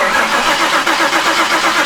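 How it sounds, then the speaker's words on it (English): A Saleen Mustang engine cranks and catches, a loud dense churning roar that holds steady and close throughout with no pause or talk. "I'm just gonna crank it over like twice, try and build up some oil pressure, and then we'll go for a start."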